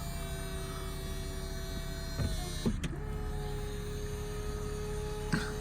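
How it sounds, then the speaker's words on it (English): A 2006 Chrysler Crossfire 3.2 V6 convertible's electric soft-top roof opens with a steady motor whine and hum, punctuated by a few mechanical clunks as the tonneau cover rises and the roof sweeps over, close and smooth. "that tornado cover goes up first, and then the roof comes, sweeps over"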